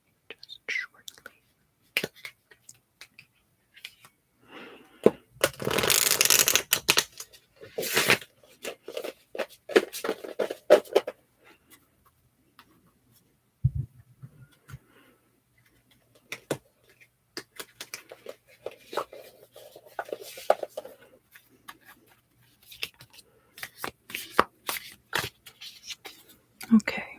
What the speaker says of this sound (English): I will be done shuffling your cards just shortly.